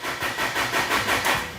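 Forklift engine cranking and catching, a loud, close mechanical sound that pulses in uneven surges over roughly a second and a half, with no talk over it.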